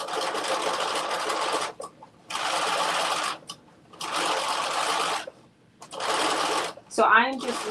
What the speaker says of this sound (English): So I'm just literally stitching this last piece to truly have my hidden placard.